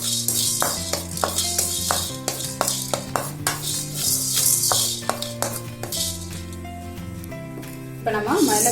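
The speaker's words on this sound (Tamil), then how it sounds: "கொஞ்சம் மல்லி சேர்த்து அதையும் வந்து வறுத்துக்கலாம்." Coriander seeds being dry roasted in a pan give light clinks and stirring scrapes, mostly masked by background music.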